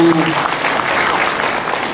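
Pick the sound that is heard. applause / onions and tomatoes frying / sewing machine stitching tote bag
applause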